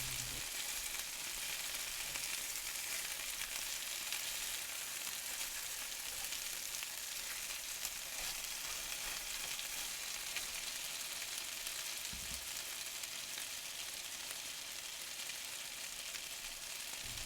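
Chicken fries in a pan with a steady, dense, crackling sizzle that stays even and continuous the whole time, close by and fairly soft, with one brief low knock partway through.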